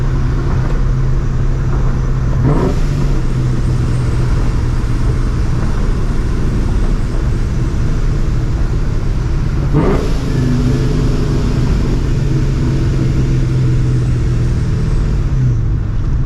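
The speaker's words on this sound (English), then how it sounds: "I already know the car is loud as fuck now" A loud supercharged 2004 Mustang GT engine rumbles steadily, with two sharp revs rising and falling partway through, close to the microphone.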